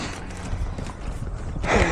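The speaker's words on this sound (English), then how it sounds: "Oh, and there's Scooter. That's Mace's horse." A ridden horse's hooves clip-clop in a short, uneven run close by, with a brief rustle near the end and no talking over it.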